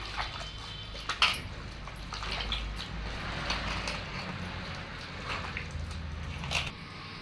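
Chicken for chicken 65 is worked together with masala in a large batch, making close, wet squishing and squelching with a few sharp clicks from a bowl or utensil, steady and continuous with no talk.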